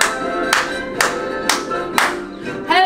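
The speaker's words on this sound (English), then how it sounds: "I want you to clap and sing with me." Children's clapping keeps a steady beat, four crisp claps spaced about half a second apart at an online library story time, moderately close, with music faintly underneath.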